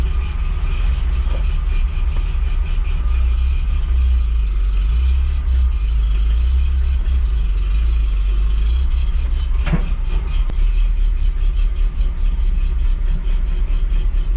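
Triumph TR7 engine running after 23 years in a garage, a steady low idle rumble close by, with a few faint clunks over the continuous drone.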